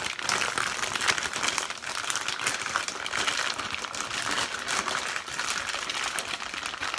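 A plastic bag holding chicken and piri piri marinade crinkles loudly and without pause as it is squeezed and mixed by hand, a dense, close rustle filling the whole stretch.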